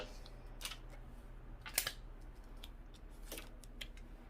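Scissors cutting through heat-transfer vinyl while trimming out the middle section for a custom shirt, with several short, quiet snips spread over a low, steady background hum.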